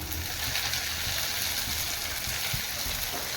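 Curry leaves and green chillies sizzle steadily in hot oil in a pan for potato masal, a soft, even crackling hiss with no talking.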